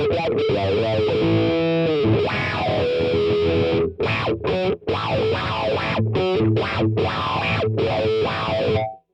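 An electric guitar plays through an AutoWah pedal, giving sweeping, vowel-like filtered chords and riffs that stop and start in short bursts near the end.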